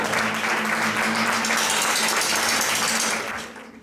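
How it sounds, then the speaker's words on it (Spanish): Dense, sustained applause from a concert audience at a folk music album presentation in Amposta, loud and continuous before fading at the end. "Este aplaudimiento de Júlia i la regidora."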